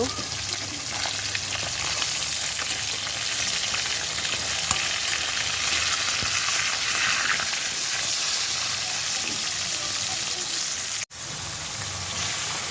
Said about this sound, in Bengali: মাছটা আমি এখন একে একে উল্টে দিব